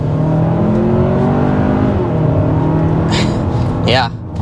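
A 2024 Hyundai Santa Fe Calligraphy accelerates, its engine rising as a loud, steady drone under ongoing talk from inside the cabin.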